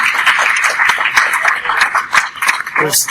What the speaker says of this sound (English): We'll add an audience applause track